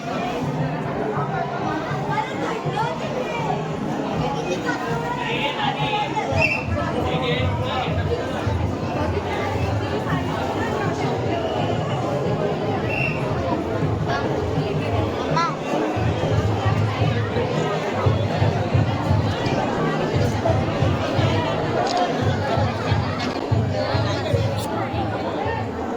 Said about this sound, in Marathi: प्राची ही गर्दी बघ काय वाटतंय प्रचंड गर्दी